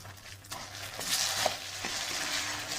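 Tomato pieces drop into a pan already sizzling with onion paste and ginger paste, a soft frying hiss rising as they land, with a few clinks and scrapes of stirring amid a low hum.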